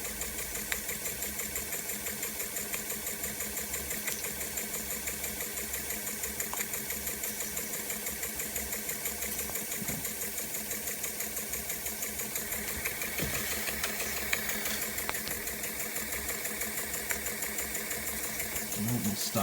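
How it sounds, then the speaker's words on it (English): A small Jensen Model 25 model steam engine chugs steadily with a fast, even mechanical rhythm and hiss, running continuously at close range with no talking. "Just love watching this engine work."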